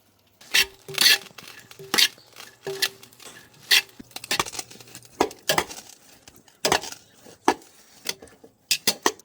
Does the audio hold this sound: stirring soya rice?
yes